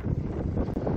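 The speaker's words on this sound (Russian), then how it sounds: "Ветер здесь достаточно такой сильный" Strong wind buffets the microphone with a dense, rumbling roar, close and continuous for a brief moment.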